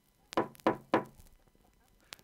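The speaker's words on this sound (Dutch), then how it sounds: "Toen werd er op de deur geklopt." Three firm knocks on a door in quick, evenly spaced succession, close and resonant, followed by a faint single tap.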